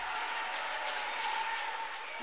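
Applause from an audience at a debate on nuclear power plants, a steady wash of clapping at moderate distance, unbroken for the whole stretch.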